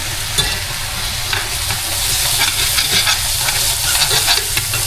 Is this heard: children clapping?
no